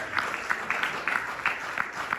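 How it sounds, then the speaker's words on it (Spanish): A church congregation claps in a steady rhythmic beat during a Spanish-language service, the claps landing at an even pace, moderately loud throughout. "Denle un aplauso al Señor."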